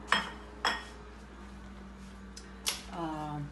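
Hummus is spooned onto a plate in a home kitchen, and a few sharp clinks of a utensil against dishware ring out, spaced apart, close and fairly faint, with a voice speaking briefly afterward.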